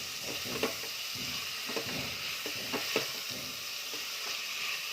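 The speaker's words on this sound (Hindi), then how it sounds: "कड़छी लगातार चलाएंगे और इसे तब तक भूनना है जब तक टमाटर नरम नहीं हो जाते।" Onion and tomato fry with salt in a pan while a ladle stirs them, a steady soft sizzle broken by regular scraping knocks of the ladle, close and without talk.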